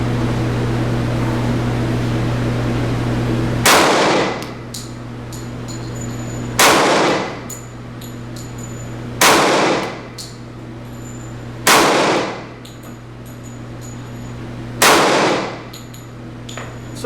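A Walther PPQ .45 pistol fires five loud, sharp shots at an indoor range, spaced a few seconds apart over a steady ventilation hum, each bang ringing briefly.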